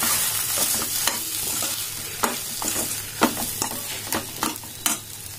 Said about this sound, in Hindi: ये 2 मिनट मैंने मसाला हमारा भून लिया और ये अच्छे से भून गया